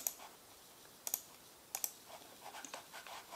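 Sharp computer mouse clicks while modelling in Fusion 360, a handful of quiet isolated clicks with a close double click, softer ticks following, in a quiet room with no talking.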